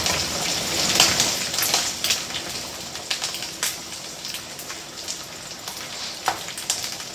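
Sausage frying in a pan crackles with a bright, uneven sizzle, spiking in sharp pops and spatters over a softer hiss, close by.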